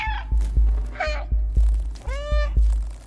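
A cat meows in the video game Stray, giving three short, close meows over a steady, thumping rhythmic beat.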